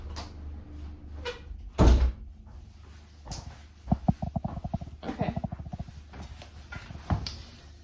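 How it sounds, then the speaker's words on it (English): A door being closed indoors with a washing machine tumbling in the background: one loud thud stands out early, followed by scattered knocks and rustling handling noises at close range. "Or maybe I will close the door."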